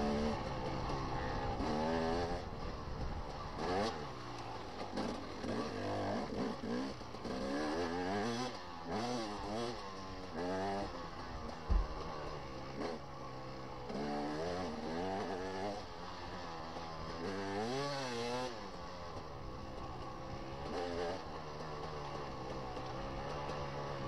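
A dirt bike engine during a hare scramble race on a rocky trail, heard up close for the whole stretch, revving and easing off in repeated surges with a rising and falling pitch, a brief sharp knock partway through.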